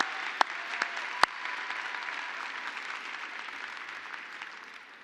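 Audience applause at an agricultural youth convention, a brief, moderate burst of clapping with a couple of sharp claps at the start that fades out.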